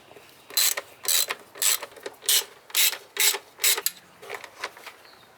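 While the plastic beauty cover is removed from a BMW M52/M54 engine, about ten quick ratcheting bursts sound in an even rhythm, each a loud, close, rasping clatter separated by short pauses.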